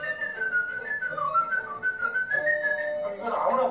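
A person whistles a melody with their lips, a clear, close tune of sustained and gliding notes, then a rougher burst at the end, with no talk over it.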